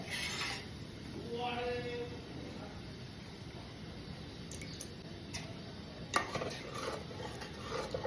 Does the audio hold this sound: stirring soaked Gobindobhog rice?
yes